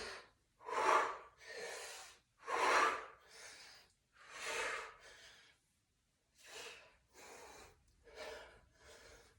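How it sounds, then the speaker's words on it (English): Heavy, forceful breaths during squat to overhead press reps, loud inhales and exhales repeating in a steady rhythm with brief pauses, close to the mic and alone. "inhale down. Exhale up."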